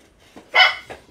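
A dog lets out one sharp, loud bark, close by, with a faint softer yip just after, over a quiet background.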